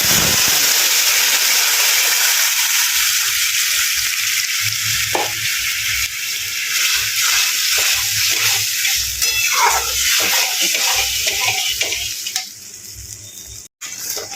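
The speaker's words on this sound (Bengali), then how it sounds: "এখানে প্রায় হয়ে গেল আমার ডাল সাঁতলানো" Dal tempering in a hot pan, a loud, close sizzle and hiss that settles into bubbling with stirring scrapes, steady throughout before a brief drop near the end.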